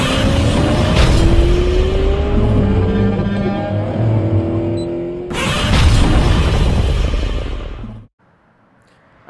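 The exhaust of a Honda Civic Type R FL5 drones loudly from inside as the engine pulls and shifts, the tone rising before a short burst, then it cuts off abruptly into near silence.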